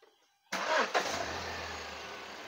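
A Hyundai Xcent or Grand i10 engine after timing chain replacement cranks briefly and fires up, with a quick rev, then settles into a steady, smooth idle close by.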